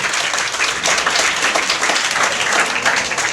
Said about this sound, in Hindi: आप सभी अपने लिए भी थोड़ी तालियां बजा लीजिए।